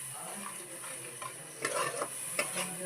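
An ingredient for prawn malai curry sautés in hot oil with a steady sizzle, broken by a few stirring scrapes and utensil clacks that grow louder toward the end.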